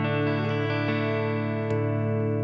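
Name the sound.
electric guitar clean tone, Fender Tone Master Deluxe Reverb setting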